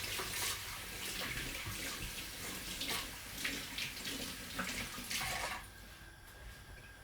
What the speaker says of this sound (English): Let me wash my hands and show you again.